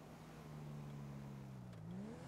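A car in a GTA roleplay game cruises along with a steady engine hum that rises slightly in pitch near the end, quiet and with no talking.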